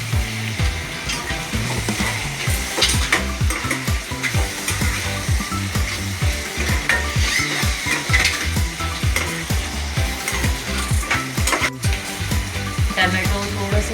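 Tomatoes sauté for a Konkani-style prawn dish, a loud continuous sizzle with rhythmic scraping and stirring of a spoon in the pan throughout.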